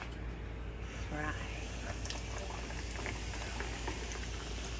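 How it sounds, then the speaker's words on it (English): Flour-coated chicken wings bubble and crackle in hot oil in a small pan, a steady close frying hiss with scattered pops, while a voice talks quietly over it. "then we're gonna fry"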